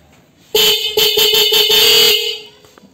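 Loud, close dual horn on a Bajaj Pulsar 125 motorcycle honking in a series of short and longer blasts with a rich, layered dual-tone sound, then silence.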